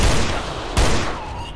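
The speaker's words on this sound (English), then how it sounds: "And I can use the shotgun." Shotgun blasts in a GZDoom mod horror shooter, two heavy booming shots a moment apart, close and loud over a dense game background.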